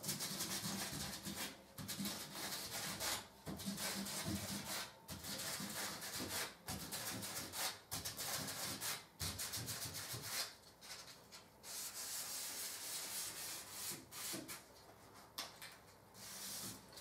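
A brush wiping gloss paint over a wooden staircase gives a close, steady rubbing swish in repeated strokes with brief pauses, no talking.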